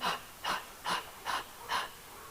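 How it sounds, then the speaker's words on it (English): Five quick, evenly spaced breaths taken during a stretching exercise class, each a short breathy burst of air, close and fairly quiet, with no talking. "So let's just do a couple of breaths here."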